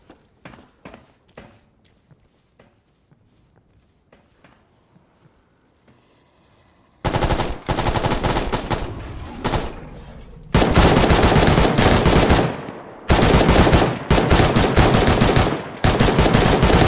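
Gunfire in the video game STALKER Gamma, set in the Red Forest: a few scattered sharp shots first, then long bursts of loud, continuous automatic fire with brief pauses between them.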